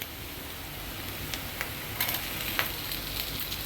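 Tomatoes fry in hot oil in a pan, a steady soft sizzle with a few light stirring clicks and scrapes, close and fairly quiet.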